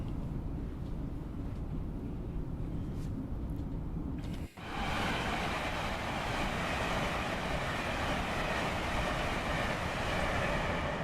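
Train running in a train simulator game, a steady loud rumbling roar that breaks off for a moment and returns brighter and harsher, like a shift from inside the cab to outside, with no voices.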